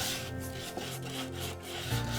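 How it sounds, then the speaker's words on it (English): Steady rubbing and scraping of sandpaper on wood, close and continuous, with a low hum in the background. "did a little touch-up sanding and rounded over all the sharp edges by hand"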